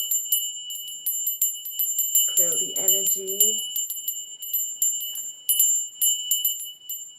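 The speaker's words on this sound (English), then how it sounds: "Let me just ring my bell," A small bell is struck again and again, giving bright, high, tinkling rings spread across about seven seconds in a quiet room. A voice speaks briefly in the middle.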